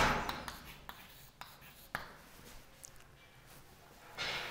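Pen scratching on paper while an equation is written out by hand, soft intermittent strokes and taps in a quiet room, faint and close.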